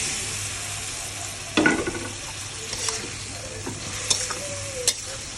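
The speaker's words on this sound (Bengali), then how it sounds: "এবার আমি কচুটা দিয়ে দেব।" Taro pieces frying in a pan with spices, a soft steady sizzle broken by several scraping stirs and clinks of the spoon against the pan.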